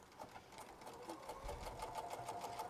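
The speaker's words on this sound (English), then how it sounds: "I'm going to back stitch on these side pieces." Sewing machine back stitching the side pieces of a Sheera purse at a 3.5 stitch length, a steady fast whirring run of needle strokes, close and continuous throughout.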